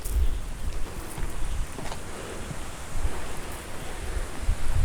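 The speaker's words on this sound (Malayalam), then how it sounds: "നല്ല കാറ്റ് വീശുന്നുണ്ട് കേട്ടോ" Strong wind gusts across the microphone on a hilltop at a temple, a constant rushing hiss with low buffeting rumbles that swell and fade. No one speaks.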